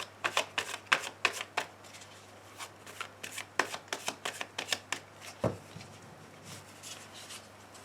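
A deck of cards is shuffled and cut close by, giving quick crisp riffling snaps in irregular bursts over a faint steady hum, with no talking.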